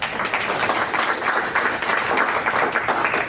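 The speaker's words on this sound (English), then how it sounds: "So, round of applause for our panelists." Sustained audience applause for the panelists at a 2013 MAVEN NMPD workshop panel discussion, a dense, even clapping that holds steady across the whole stretch.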